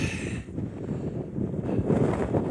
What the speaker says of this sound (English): Very windy, but excellent views right across the moorland.